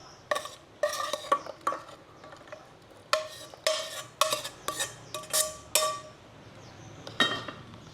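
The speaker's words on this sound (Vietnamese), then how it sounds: "Rồi mình tắt bếp và cho cái phần nấm này vào cháo ha." A utensil stirs mushrooms into a pot of rice porridge on a switched-off stove, making a run of sharp metallic clinks and scrapes in irregular bursts, close and fairly quiet.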